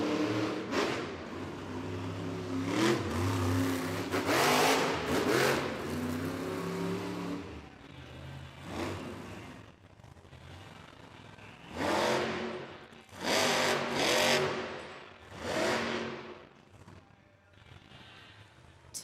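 Gravedigger monster truck, driven by Adam Anderson at a Monster Jam stadium event in Louisville, revs its engine in loud repeated bursts, with crowd noise and an announcer's voice running underneath.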